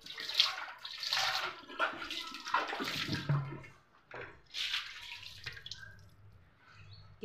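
Water is poured and sloshed to wash out an old clay pot in several separate splashy bursts, with drips and trickles in between, close up and fairly soft.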